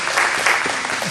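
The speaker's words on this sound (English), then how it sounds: "Round of applause." A room full of people at a party breakfast meeting gives a round of applause, brief, lively clapping at steady volume with no break.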